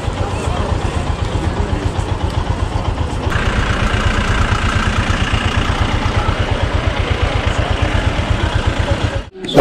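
A motorcycle idles while being parked after a monsoon ride to Darjeeling's Chowrasta. It gives a steady, close, low thumping beat for almost the whole stretch, then cuts out abruptly near the end.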